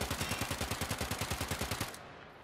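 Rapid gunfire from the Azima pistol in the video game Warframe, about twenty evenly spaced shots in a fast steady rhythm, loud and close, then stopping abruptly.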